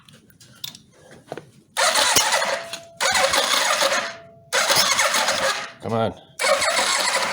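A 1985 Yamaha Venture Royale motorcycle engine cranks and catches in several loud bursts, cutting out and restarting between them, with a brief whirring squeal, while a person speaks briefly.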